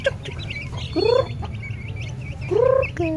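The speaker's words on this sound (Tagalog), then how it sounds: "Magpapakain ulit tayo ng mga sisiw." Native chickens make two clear rising calls over a steady low hum, with soft pecking and scratching during feeding of the chicks, close by.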